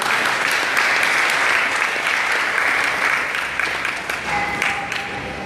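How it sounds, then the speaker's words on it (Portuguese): A church congregation applauds God loudly and steadily, a dense wash of clapping that holds for several seconds and eases slightly near the end. "Give God a clap. Vamos dar palmas a Deus. Palmas a Deus."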